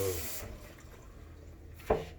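Tap water runs steadily at a kitchen sink while rice is rinsed for rice-washing water, a broad continuous splash that stops early, followed by a short sharp clatter near the end.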